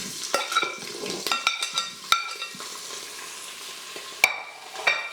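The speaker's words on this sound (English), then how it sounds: "We're just going to stir it up and let it get a little brown." Andouille sausage and ham browning in oil in an Instant Pot on the sauté setting, with steady close sizzling broken by repeated scraping stirs and a few sharp utensil knocks against the pot.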